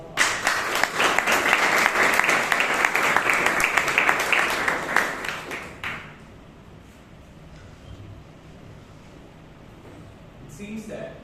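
Audience applause at a Toastmasters club meeting in Bangalore, a dense burst of clapping for about six seconds that stops abruptly, followed by quiet room tone with faint background sounds.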